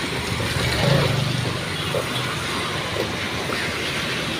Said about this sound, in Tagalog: Yan ang mga sakyan mga ka-riders.